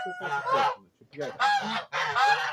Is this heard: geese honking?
yes